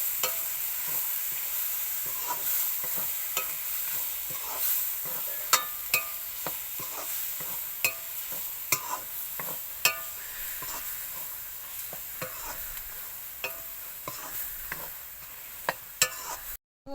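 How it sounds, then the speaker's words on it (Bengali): Garlic and chili tempering in hot oil for a shrimp and drumstick-leaf dish: a continuous bright sizzle with sharp intermittent ticks and clacks of a stirring spoon against the pan, close-up and without speech. "এই রসুন আর ঝাল দেয় আমি ফোড়ন দিলাম"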